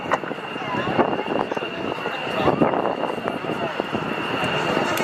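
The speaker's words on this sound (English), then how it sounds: "here comes the F-15C Eagle" An F-15C Eagle fighter jet of the Louisiana Air National Guard flies past at a New Orleans airshow, a steady broadband roar that swells and holds for several seconds, with a public-address announcer talking over it.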